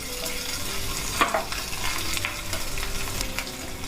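Ginger and green chillies fry in hot oil in a pan. A close, constant sizzle runs throughout, with a few stirring scrapes and one brief louder clink, and no voices.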